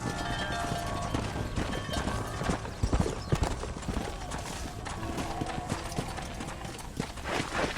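Horse hooves clip-clop in the Red Dead Redemption video game, a continuous run of quick hoofbeats with heavier thuds and clatter midway, backed by game sound and a faint whinny.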